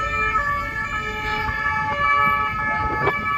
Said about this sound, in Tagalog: Pasensya na, maingay mga pulis.